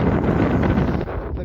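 Strong sea wind buffeting the microphone out on open water with big waves, a loud steady roaring rumble throughout that eases slightly near the end.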